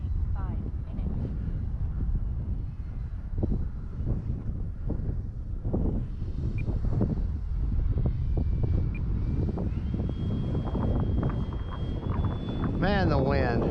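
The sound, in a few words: wind noise while flying an RC plane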